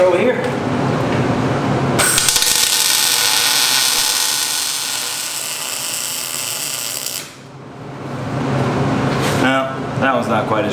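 A tack weld laid on a metal fabrication project, heard as a loud, steady crackling buzz lasting about five seconds that starts and stops abruptly, with a voice talking before and after it.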